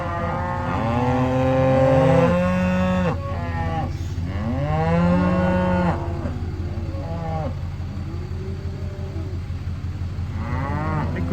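Several cows on a farm moo in long, drawn-out calls, close and loud, some overlapping, with short pauses between bellows and a low rumble underneath.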